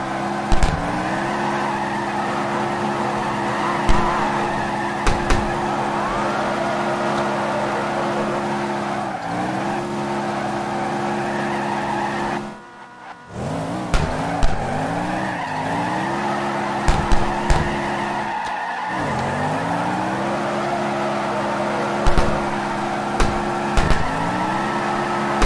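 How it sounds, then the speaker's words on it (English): Cars in the drift game CarX Drift Racing Online scream through corners, sustained tire squeal and high-revving engine tones rising and falling in long sweeps, with a brief drop-out midway and sharp clicks scattered across the run. "you could hear the squeal of his car"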